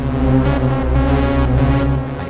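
A dense, droning Ableton Push 3 synthesizer tone like a buzzing bee, pulsing slightly in a looping pattern, loud and continuous throughout.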